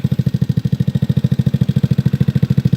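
A small 2004 Yerf-Dog GX150 go-kart engine runs close by in a steady, rapid chugging putter, an even pulsing beat throughout the short stretch with no voices.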